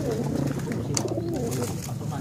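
Pigeons coo in low, repeated throaty burbles, close and continuous, with a few sharper rustles or clicks from a loft of racing pigeons.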